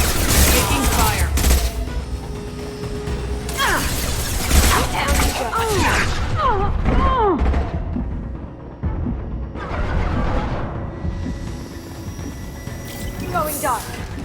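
Gunfire in Mass Effect 2, dense bursts of shots and impacts mixed with combat effects, loud and continuous, with squad voices talking over the battle.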